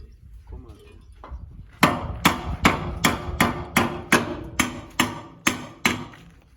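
Hammer blows striking a gate door during gate installation, about ten sharp, loud, evenly spaced hits after brief quiet movement at the start.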